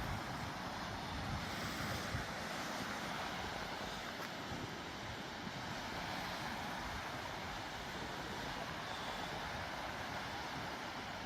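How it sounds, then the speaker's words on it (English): Steady wind roars and buffets the microphone on the Lake Ontario shore at Durand Eastman Park, with a constant wash of surf beneath it and no voices. "It's windy."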